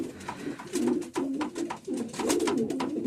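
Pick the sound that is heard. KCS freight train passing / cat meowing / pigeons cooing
pigeons cooing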